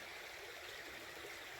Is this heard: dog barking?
no